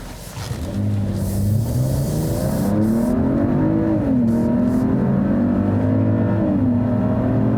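A 2020 Mercedes-Benz GLE 450 SUV accelerating hard, its engine note rising and falling smoothly through gear changes from inside the cabin, steady and moderately loud with no talking.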